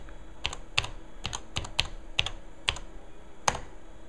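Password typed on the keyboard of a Tandy 1100 FD laptop, eight sharp, separate key clicks at an uneven pace, close and clear with no voices.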